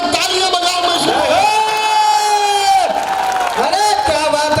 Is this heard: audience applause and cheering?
yes